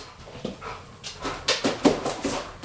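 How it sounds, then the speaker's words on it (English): A dog undergoing prong collar obedience training makes short whimpers, huffs and soft vocal bursts in an irregular series, close by and moderately loud, with no talk over it. "What a vicious dog."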